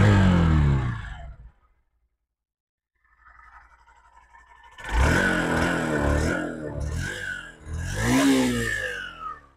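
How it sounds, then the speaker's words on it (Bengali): A 2025 Honda DX 100 motorcycle's exhaust: a short burst, a pause of near silence and a low idle, then loud, close revving that rises and falls in several surges. "এইবার চলুন এক্সস্টের সাউন্ডটা একবার শুনে নেওয়া যাক।"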